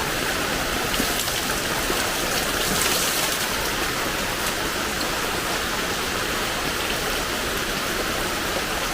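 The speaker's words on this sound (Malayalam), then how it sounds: "മഴയാടാ" Heavy rain pours down steadily in a dense, continuous hiss that fills the whole span without a break, loud and close with no voices over it.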